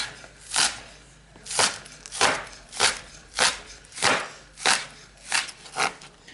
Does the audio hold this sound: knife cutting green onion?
yes